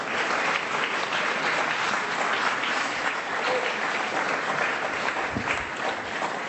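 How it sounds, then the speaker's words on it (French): An audience at a political book prize ceremony applauds the jury president in steady, full applause. The clapping stays dense and even throughout, with a brief murmur of voices mixed in. "vous demander de bien vouloir l'applaudir pour l'ensemble de son œuvre"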